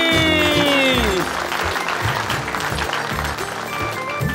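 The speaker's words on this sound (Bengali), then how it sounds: "হাততালি দিন সবাই, হাততালি।" An audience claps during a televised Bengali game segment, dense, steady applause sustained throughout, loud and close, with a musical sting fading at the start.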